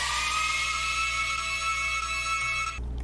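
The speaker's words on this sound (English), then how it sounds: "I have a pitch automation on the pad that makes it sound kind of like a siren almost." Synth pad in a future riddim track with pitch automation, a sustained bright tone that slides like a siren, loud and alone before cutting off abruptly near the end.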